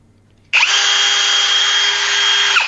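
A power drill whirs up suddenly and runs at a steady high pitch with a paint mixer spinning, loud and close, no voices.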